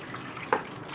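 Water poured into a baking pan holding strawberry jam, apple wood bits and pork loin juices, heard as a brief trickling splash midway through a steady faint wash of background noise.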